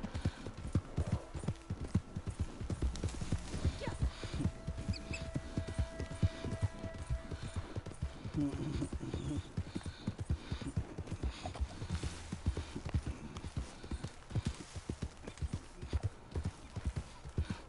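Horse hooves clop rapidly and continuously in a galloping rhythm in Red Dead Redemption 2 Online, with a faint whinny and occasional light background sounds.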